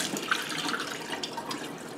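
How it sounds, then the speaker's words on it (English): Tap water running at full pressure through an N95 respirator mask, a steady broadband hiss and splash that stays even and continuous throughout, close by with no voices. "Turn on the water high"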